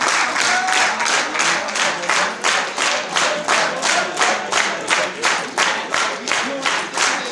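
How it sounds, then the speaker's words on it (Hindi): An audience at a poetry gathering (mushaira) claps steadily and fairly loudly to welcome poet Abdul Rehman Mir, a dense, even patter of many hands continuing throughout with no voices over it. "भरपूर तालियों में इस्तक़बाल कीजिएगा जनाब सर अब्दुल-रहमान मीर साहब का।"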